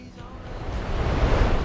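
Glacier-fed river rapids in Ötztal rush in a continuous broad roar of churning water, growing slightly louder partway through, with no voices.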